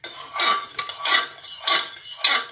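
Aloo chorchori being stirred in a pan: four or five rhythmic metal scrapes of a spoon against the cookware, close and fairly loud, with no talking.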